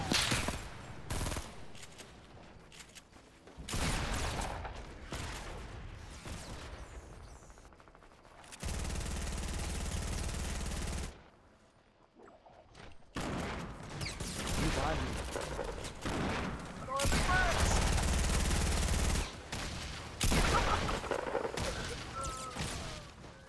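Bursts of gunfire in Fortnite, rapid automatic volleys in several separate stretches with quieter gaps between, some louder sustained sprays, mixed with game noise and a player talking.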